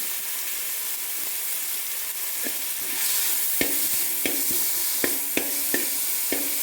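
Grated onions frying in hot oil for egg biryani, a steady hiss that swells midway, then a series of sharp spoon knocks and scrapes against the pan at a regular pace.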